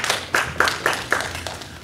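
Congregation at a church service giving a short round of clapping, several irregular bursts of claps over a couple of seconds, moderately loud in a reverberant room.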